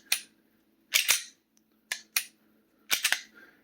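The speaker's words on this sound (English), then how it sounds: "pull the trigger, and then the reset is so light that you can reset the gun without ejecting the snap cap" A Canik TP9 Elite SC striker-fired pistol is dry-fired on a snap cap, giving sharp, close metallic clicks in small clusters of two or three, with quiet gaps between the trigger pulls and resets.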